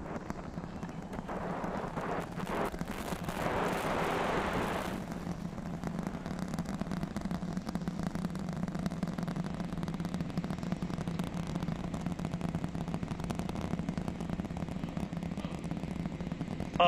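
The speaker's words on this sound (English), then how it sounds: "30 seconds into flight, the rumbles are still building here in the Raptor's nest" A SpaceX Starship Super Heavy rocket launch heard from afar as a low, continuous rumble with crackling texture, louder and rougher for a few seconds before settling into a steady distant roar.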